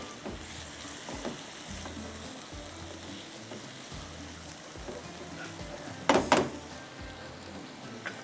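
Bone-in chicken fries in a pan with a steady, moderate sizzle, punctuated by a few brief stirring clatters and one louder scrape near the end.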